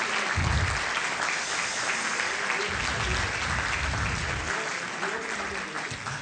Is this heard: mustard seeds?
no